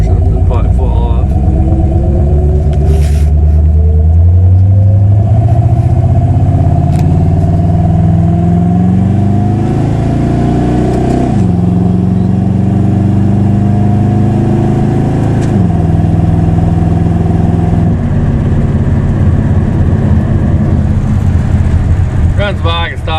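A small-block Chevy 350 V8 in a 1987 Dodge Dakota pulls through the gears, a loud, close engine drone rising in pitch, dropping at each shift and climbing again, with rumbling cabin noise throughout.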